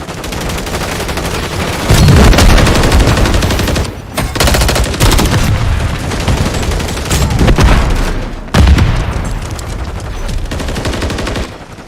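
Dense video game gunfire with rapid automatic bursts and a stun grenade blast, loud and continuous for most of the stretch, with abrupt cuts and renewed volleys partway through.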